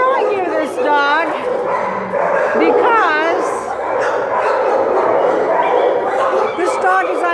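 A dog at a county animal shelter yips and whimpers in rising, wavering cries, close and loud, over constant kennel din with a person talking throughout.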